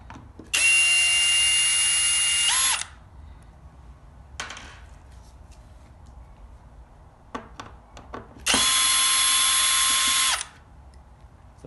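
Power drill removing screws from a metal bracket on a pinball playfield, two loud whining bursts of a couple of seconds each, with faint clicks and handling noises between them.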